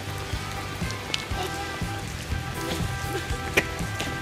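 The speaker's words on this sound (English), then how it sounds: "We've been in the rain for like 5 fucking hours." Rain falling steadily outdoors during a cold day of filming, a soft continuous patter with occasional sharper drops hitting nearby surfaces.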